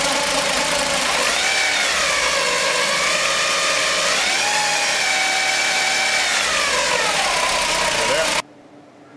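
A Dodge Stratus 2.4 liter engine runs steadily with its timing cover off, a slightly noisy timing belt whirring and whining with a wavering pitch, close and loud, before cutting off abruptly near the end.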